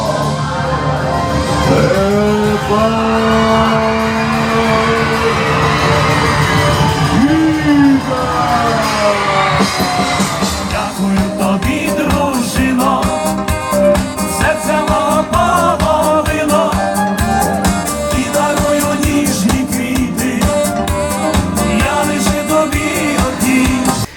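A large outdoor stadium crowd at a concert cheers, whoops and shouts for a star singer, a loud, continuous roar with music sustained throughout.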